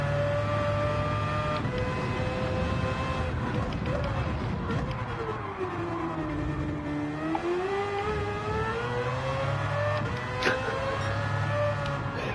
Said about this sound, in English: complaining about the sound of the Mazda